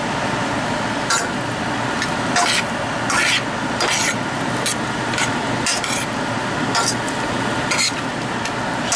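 Venison, peppers and onions sizzling steadily in a pan, with scrapes and clinks as a utensil stirs the meat against the cookware. A hiss and faint background hum run throughout.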